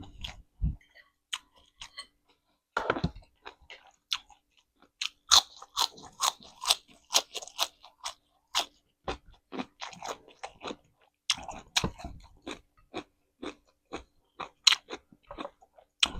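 Crisp, crunchy chewing of young kale stems eaten with spicy Thai oyster salad dressed in fermented fish sauce, close up with repeated sharp bites and munches in irregular bursts, with a few short murmurs.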